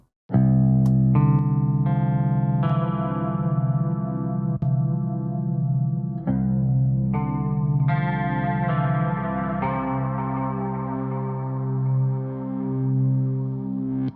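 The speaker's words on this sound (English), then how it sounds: "I will progressively add the compressor and the rest of the modulation so you hear how the sound builds up." Electric guitar through an ENGL amp model playing sustained chords and ringing notes, thick with modulation and compression, the tone swelling and shimmering over about fourteen seconds, no voices.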